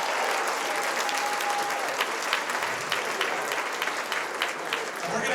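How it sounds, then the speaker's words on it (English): A crowd at a charity auction applauds steadily, a dense wash of clapping that holds at an even level throughout. "let's give her one more big round of applause"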